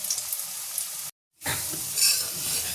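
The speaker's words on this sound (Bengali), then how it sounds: "একটা একটা করে এইভাবেই সব কটা বড়া আমি ভেজে নেবো" Green banana fritters frying one by one in hot oil, giving a steady, close sizzle that breaks off briefly and then resumes with stirring noise; no voices.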